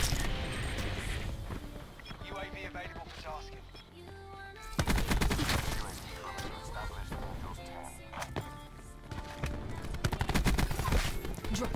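Gunfire in the video game Black Ops 4, dense bursts of automatic shots and single cracks layered over continuous game sound and music, loud throughout with a brief lull before the firing resumes harder.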